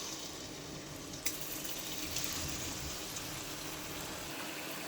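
Carrot pieces fry in hot oil with a quiet, steady hiss and sizzle, punctuated by a sharp clatter near the start and a faint tap or two.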